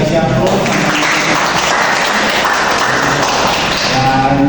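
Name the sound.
applause from students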